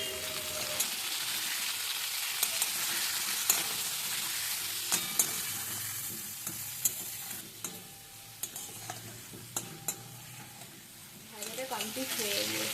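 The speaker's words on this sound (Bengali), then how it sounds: "এটাকে ভালো করে ভেজে নেব।" Vegetables frying with salt and turmeric in a hot pan, a steady loud sizzle with intermittent stirring clicks of a spatula throughout, a voice speaking briefly over it.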